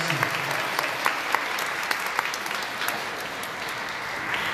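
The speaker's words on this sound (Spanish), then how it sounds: "Para venga el aplauso." Church congregation applauding at the close of an Easter-season Mass, a steady sustained clatter of many hands filling the whole stretch, fairly even in level with a few sharper claps standing out.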